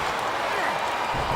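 A wrestling arena crowd in the PS2 game Smackdown vs Raw, heard as a steady roaring wash of cheering behind the commentary voices.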